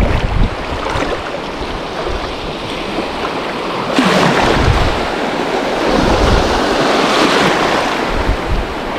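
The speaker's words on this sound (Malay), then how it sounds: "Ini ombak lah sahabat tu" Ocean surf crashing and washing continuously, loud and close, with heavy wind buffeting the microphone and a stronger wave surge partway through.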